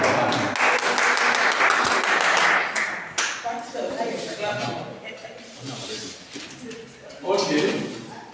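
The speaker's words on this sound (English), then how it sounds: "Let's clap for her." An audience claps for a speaker at a talk on avoiding risk. A burst of applause fills the room, then thins into scattered claps as a voice speaks over it.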